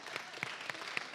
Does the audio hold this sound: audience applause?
yes